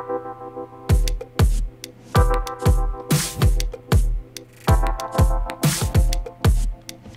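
Drum loop playing over Rhodes-style electric piano chords: punchy kick and snare hits in a steady groove with bright cymbal splashes, loud and close, while the sustained electric piano chords continue underneath.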